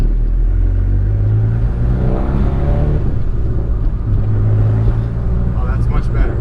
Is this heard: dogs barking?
no